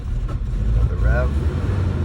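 A rough-running 1990 Geo Tracker/Suzuki Sidekick engine with a misfire gives a short rev over a steady low idle rumble, close by, with voices talking over it.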